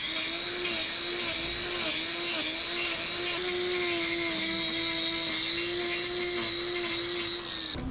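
A power grinder trims a horse's hoof damaged by a heel abscess, giving a steady close whine with a sustained tonal hum that wavers slightly as the load changes, continuous for several seconds.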